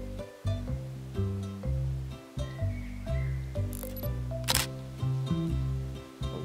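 A camera shutter clicks in a children's cartoon over bright background music, one sharp snap standing out near the end among steady tonal notes.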